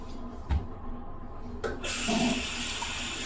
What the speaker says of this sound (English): Let's get the brush wet and get the lather going.